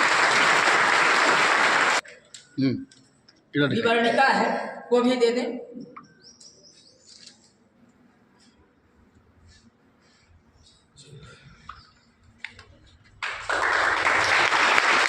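An audience at a fire safety week event claps in two short bursts, one at the start and one at the end. Between them are quieter speech and scattered room noise.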